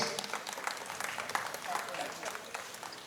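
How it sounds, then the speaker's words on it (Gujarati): Applause breaks out at a Nayak Bhojak Vyas family community gathering while a member is being honoured, a dense run of many hands clapping at moderate distance, steady for a few seconds with voices mixed in. "જોરદાર તાળી થાય"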